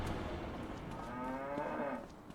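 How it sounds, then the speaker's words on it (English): Cows on Calmsden Farm in the video game Farming Simulator 25 moo loudly and close by, a long low drawn-out call over dense farmyard background noise. "Hello, cows."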